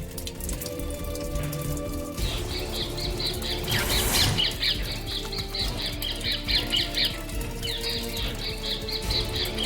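A parrot flaps its wings in short fluttering bursts close by, with some light chirping around it and no one talking.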